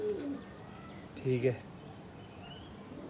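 Pigeons cooing nearby, one clear coo in the middle, with someone speaking briefly and quiet background noise.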